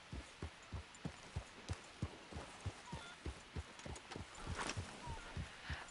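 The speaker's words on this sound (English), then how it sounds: "I got my horse back." Horse hooves clip-clopping at a steady trot in Red Dead Redemption 2, about twenty evenly spaced thuds over several seconds, moderately faint against a light wash of ambient game background.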